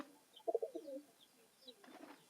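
Pigeons at a Bangladeshi loft, including khaki and army-type birds, give a short burst of low cooing, a few soft repeated notes close by, with faint chirps and shuffling afterward.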